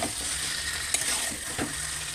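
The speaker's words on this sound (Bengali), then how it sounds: "এমনভাবে নাড়তে হবে যেন মশলাটা কড়াইতে বসতে না যায়" Marinated meat is stirred in fried spice masala in a wok, a close sizzle broken by quick spatula scrapes and metallic clinks.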